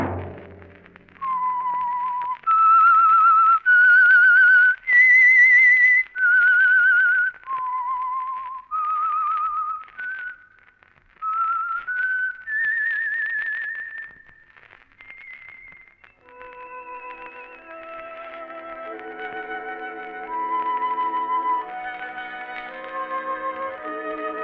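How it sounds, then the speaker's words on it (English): A lone whistled melody, the theme of the radio program The Whistler, rising and falling in clear sustained notes with short pauses, loud and close with slight echo, giving way to a soft orchestral passage near the end. "Let that whistle be your signal for the Signal Oil program, The Whistler"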